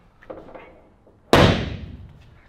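A Ford XY GT Falcon car door slams shut once, a loud, close, solid thud that decays quickly, following a moment of faint handling noise.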